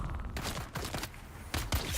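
Gunfire in the Dune Awakening game comes in three short rattling bursts separated by brief pauses, fairly loud and close.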